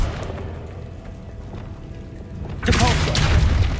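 The Descendo spell in Hogwarts Legacy is cast with a sudden heavy boom. A rumbling, crackling burst erupts out of quiet ambience and keeps roaring loudly to the end.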